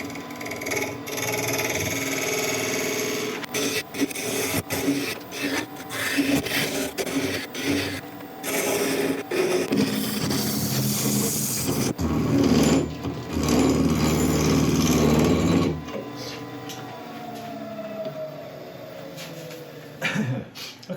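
A wood lathe truing the base of a resin blank before a tenon is finished, with intermittent scraping and rasping cuts, bursts of tool contact, and pauses as the spinning piece is worked up close.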